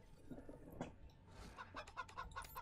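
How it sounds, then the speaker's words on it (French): Cyborg chickens cluck in the Wasteland 3 video game, a few short, soft clucks and chirps sounding one after another over a low game background hum. "on est en train de créer une armée de poulets cyborgs"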